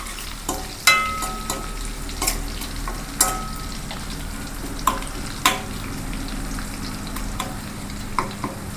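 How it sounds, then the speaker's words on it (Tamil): Crushed garlic sizzles and fries steadily in hot oil in a pan for Sankara fish gravy, with a few sharp clinks of a stirring spoon against the pan. "இடிச்சு வச்ச பூண்டு போட்டு கொஞ்சம் பூண்டு கலர் மாறுற வரைக்கும் வதக்கிக்கணும்."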